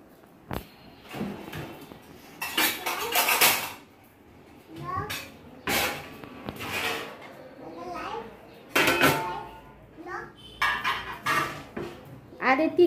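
Plates clatter and clink intermittently as they are handled in a home kitchen during a Ganpati festival gathering, with sharp bursts of dishware noise mixed among children's and adults' chatter.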